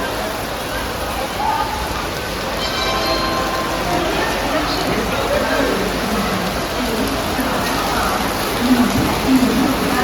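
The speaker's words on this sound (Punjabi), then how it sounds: "ਬਹੁਤ ਜ਼ਿਆਦਾ ਤੇਜ਼ ਮੀਂਹ ਆ ਨਾ ਬਾਰਿਸ਼ ਦੇਖੋ ਕਿੰਨੀ ਹੋ ਰਹੀ ਹੈ" Steady rain pours down in a dense hiss with voices faintly audible underneath.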